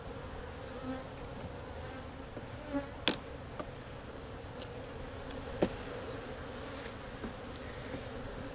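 Many honey bees hum steadily up close inside a weak hive during inspection, a thick continuous drone broken by a few faint clicks and knocks.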